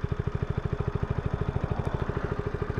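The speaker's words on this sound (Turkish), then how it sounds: "Egzoz sesini şöyle bir dinleteyim." A Peugeot XP400 GT motorcycle idling close up, its exhaust giving a deep, even, rapid thumping pulse that repeats steadily with no other sounds.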